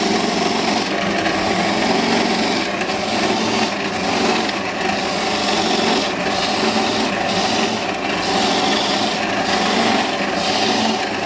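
A cracked coconut half is grated by hand in the Thai style, giving a continuous rough rasping scrape with a steady rhythm, close and fairly loud, with no talking.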